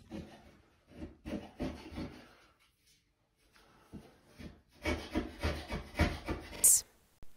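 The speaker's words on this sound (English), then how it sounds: "you'll be able to hear the scraping sounds" Rough scraping on wood comes in rhythmic strokes, pausing briefly in the middle, then resuming in a quicker series of close, gritty passes.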